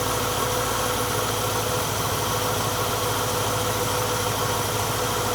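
A car engine idles steadily during carburetor retuning after a cam swap, a loud, even, continuous rumble with a lopey pulse and no talk over it.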